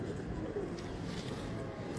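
Pigeons coo in low, soft murmurs inside a pigeon loft among fancy breeding birds, a steady, close, muffled burble filling the whole moment with no one speaking.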